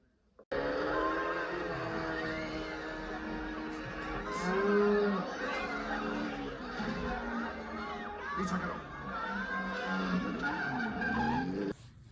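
A tuk-tuk chase from the film Octopussy plays as a busy movie soundtrack of whining small engines, skidding, crowd commotion and music, loud and continuous after a brief silent start.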